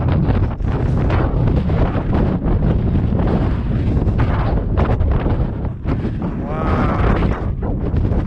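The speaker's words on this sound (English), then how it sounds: "is fairly windy" Strong wind buffets the microphone in a continuous loud roar, with faint voices briefly audible underneath.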